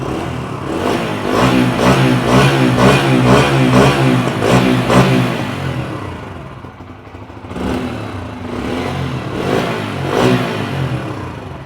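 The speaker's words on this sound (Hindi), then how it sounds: "Engine sound, exhaust note. Throttle देता हूँ" A Bajaj Freedom 125 CNG motorcycle engine revs repeatedly, throttle blipped in quick bursts, then idles briefly before revving again, loud and close.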